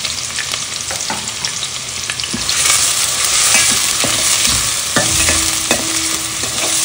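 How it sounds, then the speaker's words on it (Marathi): Chopped onion, coriander, curry leaves and chilli fry and sizzle loudly in a pan, with steady crackling and the scrape of stirring close up. "2 मिनिटे कांदा असा चांगला परतून घ्यायचा आहे"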